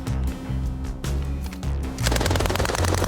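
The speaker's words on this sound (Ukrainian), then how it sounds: "Прям дуже непростий момент стріляти без рук." Rapid bursts of rifle fire from an amputee soldier at a shooting range, loud and close, with sharp repeated reports running through the whole stretch and growing denser toward the end.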